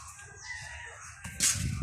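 Backyard chickens with a rooster crowing, soft clucking and rustling first, then a loud, sharp crow bursting out near the end.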